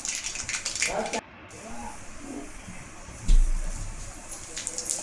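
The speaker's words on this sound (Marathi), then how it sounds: "आता जिरेही तडतडले" Mustard and cumin seeds crackle and hiss in two ladlefuls of hot oil in a kadhai on a gas stove, a steady spitting sizzle with a louder burst partway through and a brief drop in between.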